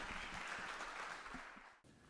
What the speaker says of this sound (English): So round of applause to Thomas Reed.